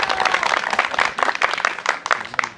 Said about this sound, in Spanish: Fuerte el aplauso para Blancanelli Rodríguez.